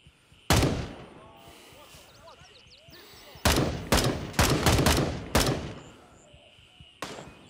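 Gunfire in the video game Gray Zone Warfare, a single loud shot followed by a rapid cluster of sharp, close rifle shots and a final report, with no talk over them.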